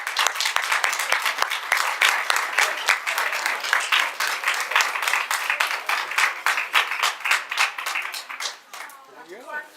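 An audience at a regular public meeting claps for students being honoured for eleven years in a row, a sustained round of applause at moderate distance that tapers off near the end.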